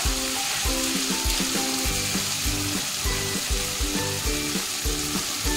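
Ginger paste and red chili powder masala fry in a pan for chicken kosha, giving a close, steady sizzle broken by a regular rhythm of stirring and scraping strokes, with no talking.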